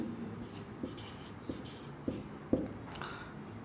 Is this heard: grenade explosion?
no